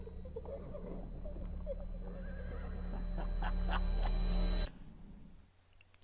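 A horse neighs in the medieval video game Die Säulen der Erde, several whinnying calls over a steady game ambience and low hum, ending abruptly into near silence.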